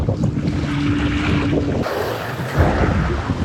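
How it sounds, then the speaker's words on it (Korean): A strong side wind blows across seaside rocks during shore fishing, roaring and buffeting the microphone in gusts over the wash of the sea, with no voices. "등바람에서 옆바람으로 돌변했습니다. 완전 옆바람이에요, 지금."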